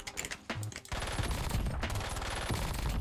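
Rapid, loud automatic fire from an SMG on a video game firing range, an unbroken rattling stream of shots that runs from about one second to the end after a few scattered bursts at the start.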